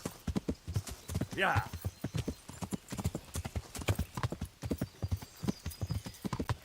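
Horse hooves clip-clopping at a steady galloping rhythm in the Kingdom Come Deliverance video game, close and continuous, with a brief whinny and a quiet voice speaking underneath.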